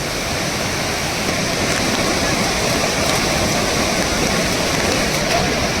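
Waterfall at Marleshwar in the rain season, a powerful, steady roar of rushing water that fills the scene evenly and loudly without a break.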